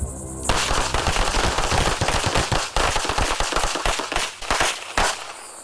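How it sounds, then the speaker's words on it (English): Sustained automatic and rapid gunfire on a live-fire training range, loud and close, with bursts of overlapping shots that rattle on for several seconds before thinning into scattered final rounds. "Commence firing."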